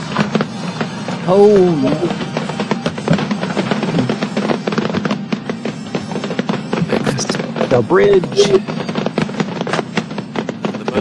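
Fireworks crackle and pop steadily at an outdoor race event in Raglan, a continuous dense series of sharp bursts, with people talking over them throughout.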